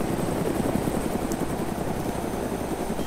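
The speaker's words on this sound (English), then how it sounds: "It's a utility helicopter, so you gotta be kind of gentle with it." Utility helicopter in the video game DayZ heard in steady flight, a continuous near, loud rotor chop and engine drone with no pauses and no talking.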